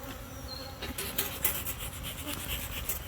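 A steady buzz of bees at a beehive hums close by, with soft rustling and scraping layered over it throughout.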